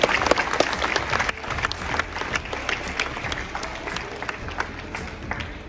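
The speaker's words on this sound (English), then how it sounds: "let's give a big round of applause to all the speakers" Audience in a school hall applauds the speakers of an inter-house debate competition: sustained, lively clapping from many people that starts loud and eases slightly after the first second, with no talk.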